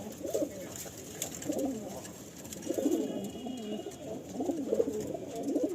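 Pigeons coo repeatedly in a breeder's loft, soft rounded calls rising and falling in several overlapping bursts at close range, with faint rustling in the background and no talking.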